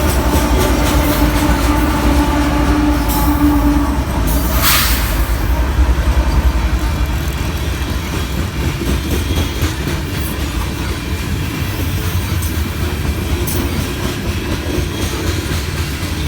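A long coal drag led by ES44AC locomotives rolls past close by, a loud continuous rumble of wheels and cars with a brief higher squeal early on.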